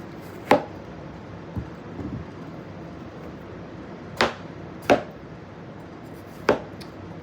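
A knife cuts through a watermelon with a few separate crisp chops and thuds, spaced irregularly, close and moderately loud in a quiet room.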